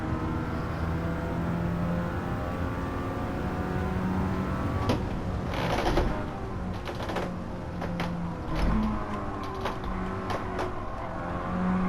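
A Mazda RX-7 FC in Gran Turismo 7, driven on a sim wheel with a soft rear anti-roll bar and too much throttle to provoke slides: a continuous loud engine drone that rises and falls, with sharp ticking clicks scattered over it.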